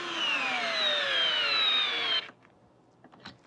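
A cheap $8 cordless drill whines under load, a strained motor tone that drops slowly in pitch for about two seconds and then cuts off, followed by a few faint clicks.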